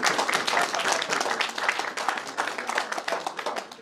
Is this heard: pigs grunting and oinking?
no